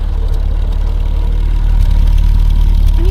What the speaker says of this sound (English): listen to the exhaust before we do anything